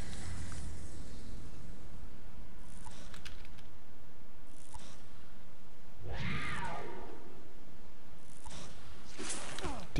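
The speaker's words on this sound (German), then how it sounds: "Die Katze." A cat meowing in the online game Champions of Regnum, with a couple of drawn-out meows over a constant noisy game background, no speech.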